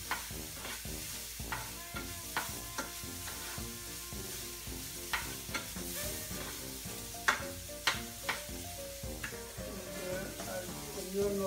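Spinach and mushrooms stirred in a pan with shrimp and onion, a steady sizzle broken by repeated scraping knocks of a utensil against the pan, close and continuous.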